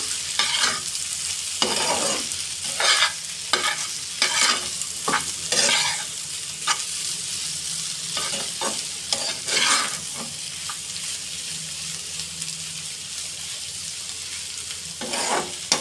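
Repeated scraping strokes of a spatula stirring egg into frying vegetables in a hot pan, each stroke over a continuous sizzle; no voices heard.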